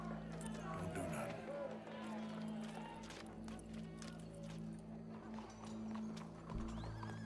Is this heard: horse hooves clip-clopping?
yes